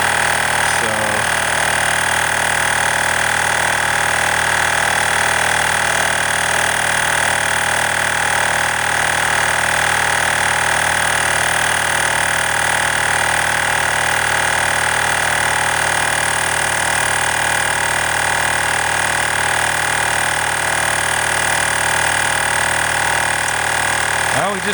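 An Avapow AP18 tire inflator runs steadily while pumping up a car tire, a loud continuous buzzing motor drone that holds unchanged throughout, close to the microphone.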